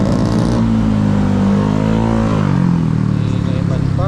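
A motorcycle engine droning steadily and loudly at close range during an evening ride in light drizzle, its pitch rising and falling slightly, with wind noise, while someone talks over it.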